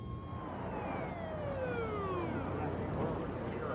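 A distant ambulance siren wails with slow, falling sweeps over steady road and traffic noise.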